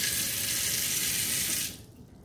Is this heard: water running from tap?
yes